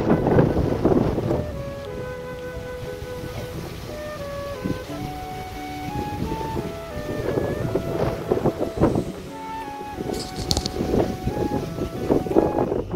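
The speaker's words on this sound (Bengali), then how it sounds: "এখন হালকা হালকা হাওয়া দিচ্ছে, ঠান্ডা হাওয়াটা দিচ্ছে" Cool wind blowing across a rooftop, a continuous rushing buffet on the microphone with gusts rising and falling, and faint tonal sounds in the background.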